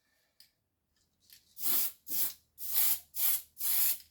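Light coats of spray paint going onto a Tamiya model car body: after a couple of faint ticks, five close, loud hissing bursts, each lasting about half a second with short gaps between.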